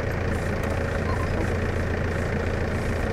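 A motor engine idles and runs smoothly at a steady low rumble, moderately quiet and continuous for a few seconds with no voices.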